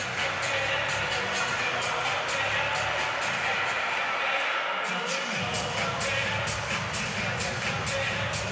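A packed basketball arena crowd at a college game roars in a steady, dense wash of cheering that barely changes across the clip, with a commentator's voice talking over it.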